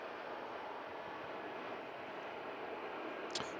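An EasyJet Airbus Neo jet arriving at Manchester Airport after a flight from Berlin gives a steady, distant broadband roar that holds evenly throughout, with a brief sharp click near the end.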